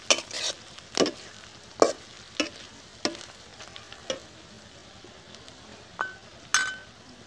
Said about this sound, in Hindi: खूब भून लेना है।